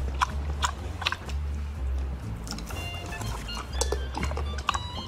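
A horse chews a snack up close, with repeated crunchy bites and grinding in an uneven rhythm and low snorting breaths underneath. Someone talks faintly in the background.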